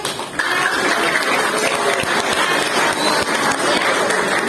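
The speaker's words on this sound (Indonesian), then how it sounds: "Tepuk tangan dong buat yang" A school audience at SMAN 1 Labuhan Haji breaks into sustained applause for marawis drum performers, a broad continuous wash of many hands clapping filling a large hall, steady and fairly loud throughout.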